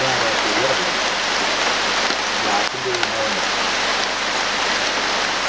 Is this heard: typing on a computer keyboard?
no